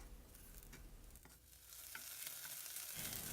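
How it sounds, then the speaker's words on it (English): Garlic clove sautéing in a tablespoon of olive oil in a pot, a steady soft sizzle with light stirring scrapes, continuous and close, with no talking. "Just saute it for a few minutes with a tablespoon of olive oil."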